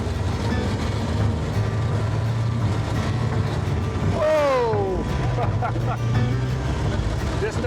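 A tracked ATV drives steadily with a continuous loud engine drone and rattling track noise, a brief rising whine near the middle as it shifts gears, and someone talking over it.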